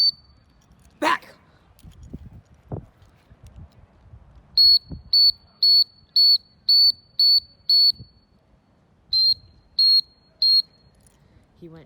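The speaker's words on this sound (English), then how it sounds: "He went past it, so I'm whistling him back some." Short, shrill blasts of a dog training whistle, a run of about six evenly spaced pips followed by three more, calling a retriever back during a duck dog drill outdoors, with a few soft knocks and faint sounds between.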